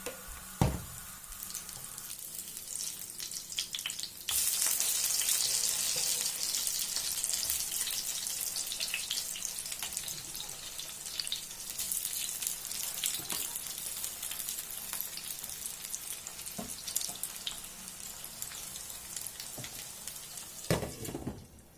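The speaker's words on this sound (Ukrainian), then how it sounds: "І смажемо." Liver fritters frying in a pan give a steady, moderately loud sizzle that swells and settles, with a few clicks and clatters of utensils but no talking.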